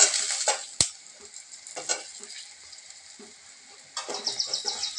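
Pieces of ridge gourd go into hot oil in a pan, giving a soft steady sizzle broken by scraping stirs and a sharp clink of a utensil against the pan.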